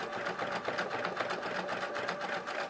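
A sewing machine running a free motion stippling stitch, its steady rapid needle chatter and motor hum continuous and close throughout, with no voices.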